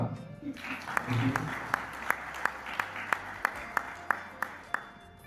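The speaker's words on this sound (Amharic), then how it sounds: "ከጠበቅነው በላይ ጭብጨባ" An audience claps together at a children's medical event, steady applause running the whole time with a series of sharp, evenly spaced pings or claps standing out on top, fairly close.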